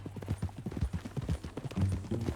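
Horse hooves clip-clop close by in Red Dead Redemption 2: a quick, steady run of sharp hoofbeats on hard ground, clear and continuous.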